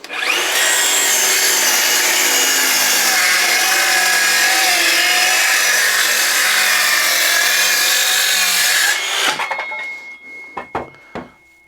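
A DeWALT 12V Xtreme cordless circular saw whines loudly and steadily through a rip cut in wood for about nine seconds, then spins down, followed by a few clatters and knocks.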